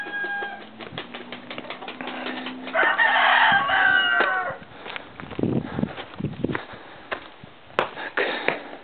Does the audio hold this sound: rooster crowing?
yes